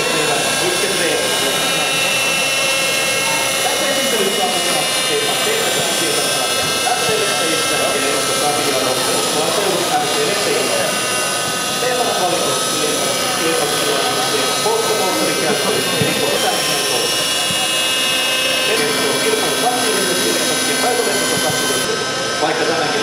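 A radio-controlled model aircraft flies overhead with a steady, high engine whine that swells and fades slightly as it passes, loud and continuous throughout.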